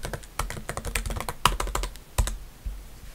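A password is typed on a MacBook keyboard: quick, light key clicks in an irregular run, close and clear with no talk.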